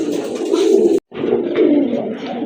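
Pigeons coo close by in a low, continuous murmur, broken by a brief silence before the cooing resumes.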